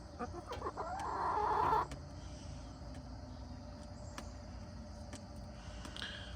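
A chicken gives a drawn-out clucking call up close that rises and stops, followed by quieter scattered clucks and rustling over a steady background hum, with no talk.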